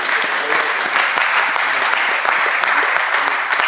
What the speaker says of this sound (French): On acclame encore Jésus.